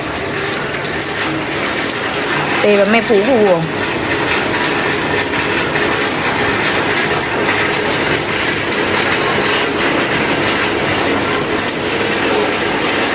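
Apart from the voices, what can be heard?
heavy rain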